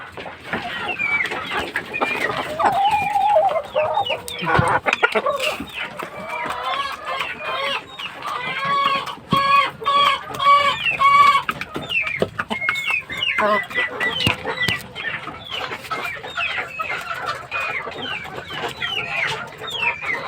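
Gamefowl hens and roosters on a farm cluck and call steadily and close by, with overlapping bursts of clucking and an occasional crow-like call throughout.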